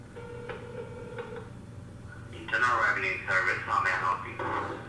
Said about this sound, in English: we're going to be calling them up to find out about that